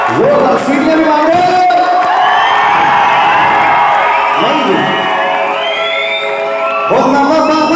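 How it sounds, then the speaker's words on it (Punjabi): Crowd at a live concert in Italy cheering, whooping and whistling loudly and continuously, with shouted voices throughout and a fresh surge of cheers near the end. "ਜ਼ੋਰਦਾਰ ਸੀਟੀਆਂ ਵੀ ਮਾਰੋ"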